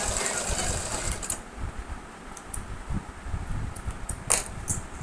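A sewing machine stitches a round pillow cover, its close, busy mechanical whirr running steadily through the first second, then breaking into light clicks and brief bursts of stitching.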